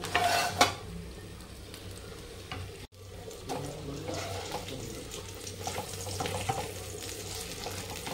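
Water is poured into a pot of chicken curry while it is stirred, giving a running splash over gentle scraping and soft sizzling throughout.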